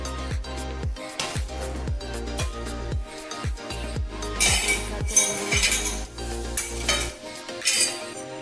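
Metal pots and pans, including a lid, a small karahi wok and a heavy tawa griddle, clank and clatter repeatedly, with ringing knocks and scraping as the cookware is handled up close.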